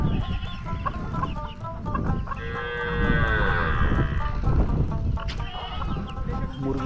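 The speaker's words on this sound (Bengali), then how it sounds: "মুরগিকে চাউল দেওয়া হয়েছে খাওয়ার জন্য।" Chickens cluck and call while pecking at rice in a village on Kodaldah char, a river island. Several drawn-out, rising calls stand out midway over a steady bed of rustling and scratching close by.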